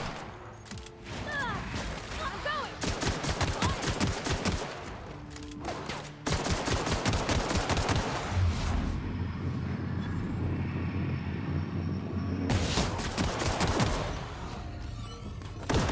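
Gunfire in The Outer Worlds: rapid bursts of shots, loud and close, separated by short gaps, with game effects and rumble between the volleys.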